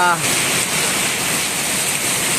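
Steady, heavy rain pours down in a dense, even hiss that is loud and continuous throughout, with no breaks or distinct drops standing out.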